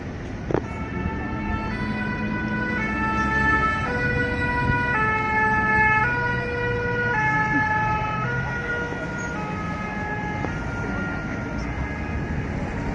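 Ambulance sirens wail continuously in a two-tone, stepping pattern on a street in Nice, France, loud and sustained over a dense background of traffic and crowd noise.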